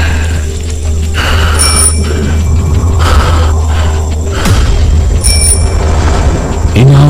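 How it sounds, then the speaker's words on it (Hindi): A bicycle bell rings twice, a few seconds apart, bright against a loud, low droning rumble. "पीछे साइकिल की घंटी और सांसों की आवाज सुनाई देने लगी।"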